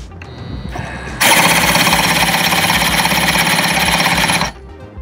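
A flooded JetSurf motorized surfboard engine cranks in one burst of about three seconds, a loud rapid mechanical chatter that starts abruptly and stops just as suddenly, with quiet before and after and no talking.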